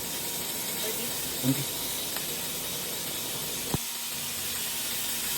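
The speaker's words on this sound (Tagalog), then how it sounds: "Ito, naglagay ako ng butter." Butter sizzles in a hot pan beside ribeye or porterhouse steak with garlic, mushroom and onion, a steady close hiss and crackle throughout, with a couple of small pops and a voice talking over it.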